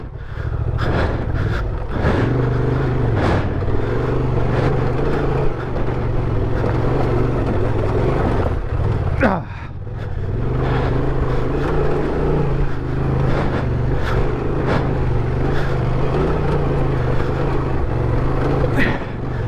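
A Honda Transalp 750 motorcycle climbing a steep hill of loose rocks, its engine droning loud and steady and close up, with clutch-slipped revving, a short dip near the middle, and rattling rock hits.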